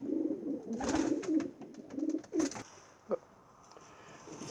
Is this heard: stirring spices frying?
no